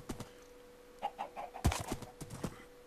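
Soft, quick chicken clucks in short bursts over a faint steady hum, with a few light thumps, in Minecraft.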